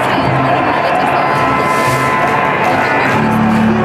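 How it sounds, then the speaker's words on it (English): At an award ceremony of a national chess final, a large crowd cheers and claps for the winners. The roar of whoops and shouts is loud and dense, filling the hall without a break. "let us clap for them"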